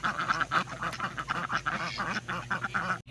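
Ducks, likely Cayugas, quack repeatedly in a busy overlapping chorus near an outdoor orchard area, loud and close, with no talk.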